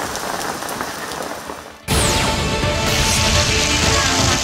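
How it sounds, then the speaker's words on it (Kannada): Heavy rain pours steadily across several areas during a downpour, a dense, loud hiss that drops briefly near the start and then returns even stronger, with no voices. "ಹಲವೆಡೆ ಧಾರಾಕಾರ ಮಳೆ ಸುರಿಯಿತು."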